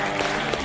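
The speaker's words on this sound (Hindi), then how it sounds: "अरे भाई ताली बजाओ हरियाणा के लिए ढंग से." A short burst of crowd clapping for Haryana on a competitive reality show: dense, loud applause lasting under a second.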